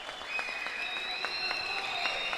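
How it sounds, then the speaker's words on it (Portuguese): An audience at a jiu-jitsu championship in Imperatriz, Maranhão applauds with steady, sustained clapping, a continuous wash of hands with a faint tonal ring running through it. "Aplaude, a galera aplaude muito."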